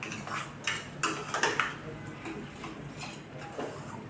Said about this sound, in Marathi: आपण हे मस्त असं व्यवस्थित हलवून घेऊयात